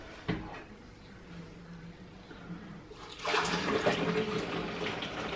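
Liquid poured through a funnel into a sanitized carboy while making mead, a steady close gush of water that swells louder partway through and keeps flowing.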